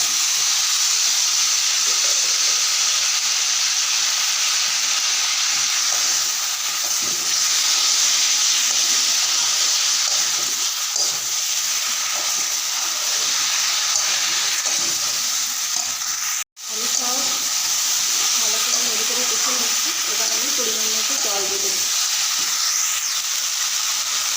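Cauliflower and ginger frying in a pan, a loud continuous sizzle and hiss lasting throughout, broken by one brief cut-out and followed by faint stirring sounds.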